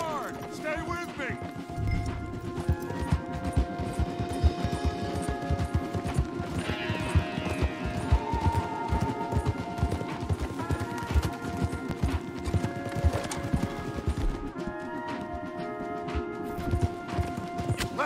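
Horses gallop hard in the video game Red Dead Redemption 2, a steady rapid clip-clop of hooves running throughout with occasional whinnies, under a bed of game music and sound effects.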